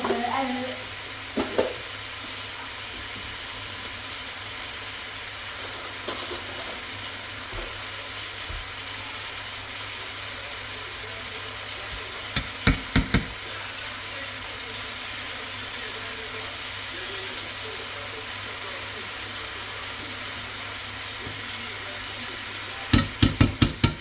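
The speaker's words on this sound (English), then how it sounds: "So now I'm going to add garlic, some cloves of garlic, and also I'm adding some 2 tablespoons of butter." Garlic cloves and butter sizzle in a hot pan, a steady dense frying hiss filling the background, with a few brief clinks of a utensil against the pan.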